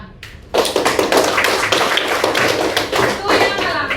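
A fourth-grade class claps hands together in a classroom, starting abruptly after a brief pause and continuing as steady loud, dense clapping.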